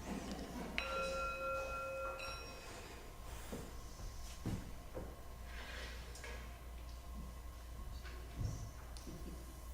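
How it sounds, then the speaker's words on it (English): A bell is rung at the opening of a church service, a few faint clear chimes early on with ringing tones that fade, set among quiet room rustles and occasional soft knocks. "It occurs to me that I didn't ring the bell in the beginning, so I'm going to do that now."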